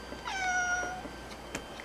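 A cat lets out one drawn-out, high, wavering meow close by, followed by a quiet room with a faint click.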